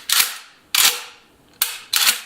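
An airsoft Dominator DM870 shotgun fires four times, each a sharp, loud, close crack with a short fading tail, spaced roughly evenly over a couple of seconds.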